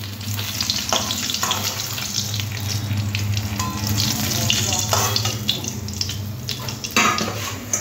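Katla fish pieces frying in oil in a pan, a continuous close sizzle and crackle with occasional clatter of a utensil against the pan, and a hint of a voice in the background.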